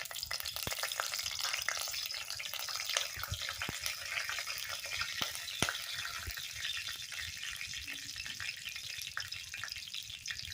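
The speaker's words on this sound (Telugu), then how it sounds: "మసాలాలు కొంచెం అలా తిప్పట్లాడుతూ ఫ్రై అయితే ఆ ఫ్లేవర్ అందులోకి ఖచ్చితంగా వస్తుందండి." Whole spices fry in hot oil in a pressure cooker while khichdi is being made, giving a steady close crackling sizzle with small pops throughout and no talking.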